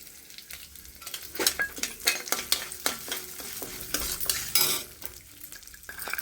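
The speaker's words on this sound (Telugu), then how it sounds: "ఇవన్నీ కొంచెం ఫ్రై కానివ్వండి" Cumin, mustard seeds and garlic sizzle in a hot pan while a utensil stirs and scrapes against the metal in quick, irregular clinks, close and fairly clear throughout.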